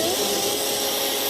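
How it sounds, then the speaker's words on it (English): An electric chainsaw cuts through a fallen tree on a trail, a loud steady whine and buzz that runs continuously and close throughout, with no talking. "electric chainsaw clearing the trail again"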